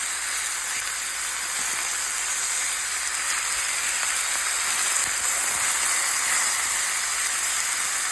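Black Angus beef ribs searing in a hot pan give off a steady, even sizzle, a constant bright hiss that carries on alone throughout.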